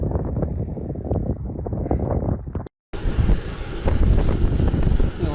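Side wind buffets a microphone while cycling on an Outleap Hardway S 2022 bike on a spring road, a loud rough roar that drops out for a moment and then returns louder and brighter.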